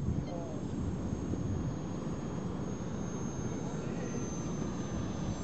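A Ministar radio-controlled model airplane flies at an outdoor club field, its engine a steady, distant drone under wind noise that stays even throughout.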